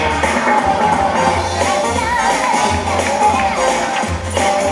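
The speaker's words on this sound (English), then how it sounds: "Keep your applause going for these guys" A crowd at the Suffolk Show, an outdoor county agricultural event, applauds blade skaters in a dense, steady wash of clapping and cheering, with a low rumble running underneath throughout.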